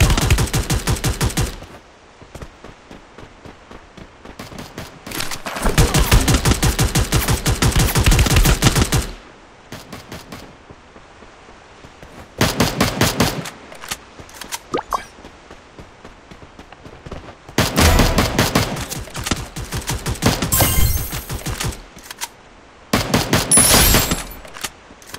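Gunfire in the Free Fire mobile video game, rapid automatic bursts of shots lasting a few seconds each, separated by quieter gaps with scattered single shots, loud and close with no talking.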